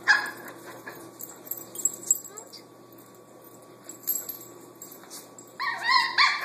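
Dogs whimper, yip and bark in short, agitated bursts indoors. The sounds are close and mixed with household background noise, and a sharper flurry of barking comes at the end.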